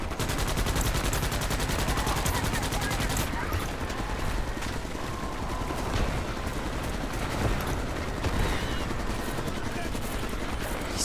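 Dense rapid gunfire from weapons in a video game pours out steadily and loudly, with machine-gun bursts and explosions blending into a continuous wall of noise alongside chatter.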